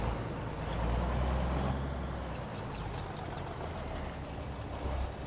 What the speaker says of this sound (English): pull over the drive over auger here and get this truck dumped